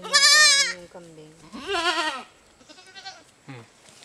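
A goat bleats several times, loud and close, in long wavering cries with pauses between them and a shorter bleat near the end.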